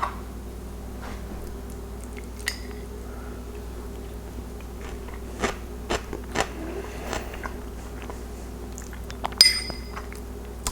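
Raw celery eaten with tuna fish dip gives faint, sparse crunching bites and chewing clicks over a quiet room hum, with no talking.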